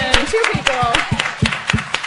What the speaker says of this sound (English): And we are going to applaud that person